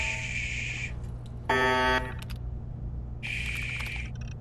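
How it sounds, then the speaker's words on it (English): An alarm goes off in Fallout 4: a steady high electronic tone sounds for about a second, then a brief harsher buzzing burst, then after a pause the high tone returns, all over a low constant hum. "There's another alarm going off somewhere."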